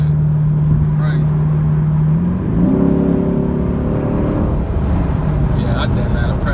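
A Dodge Charger SRT8 engine speeds up on the highway, its drone rising in pitch as the car gathers pace, with someone talking over the cabin noise.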